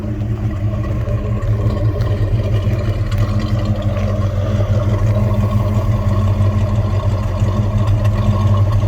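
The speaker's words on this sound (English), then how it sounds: "just an awesome gurgle out the rear" A 1971 Pontiac GTO Judge survivor idles after a cold start, its exhaust a steady, deep, loud gurgling rumble heard close and unbroken throughout.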